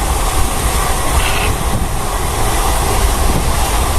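A train runs steadily on its rails with a loud, continuous rolling rumble and rattle that holds even from start to finish, with no voices over it.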